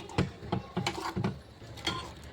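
A wooden masher crushes cooked tomatoes in a pot, giving five or six soft, irregular thuds and squelchy knocks, close and fairly quiet, with no talking.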